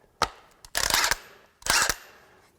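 A Craftsman V20 brushless 1/2-inch drive impact wrench on a 2 amp hour battery running in reverse to remove a nut: a short click, then two loud rattling hammering bursts close by, no talking.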